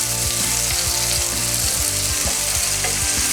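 Food frying in a pan for pasta carbonara gives a loud, continuous sizzle that fills the whole stretch over a tonal backing, without speech.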